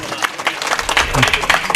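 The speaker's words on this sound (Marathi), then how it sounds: "टाळी वाजवा एकदा." A crowd at a village kirtan gathering held for a memorial feast claps in a lively round of applause, moderately loud and close, with voices talking over the clapping.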